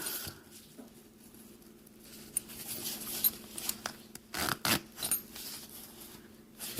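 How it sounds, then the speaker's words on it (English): Zipper being drawn closed on a handmade accessory pouch built from PALS/MOLLE webbing, quiet scratchy pulls with a few sharper bursts of zipping near the end, no talking. "Try and get both sides even before you start zipping it up."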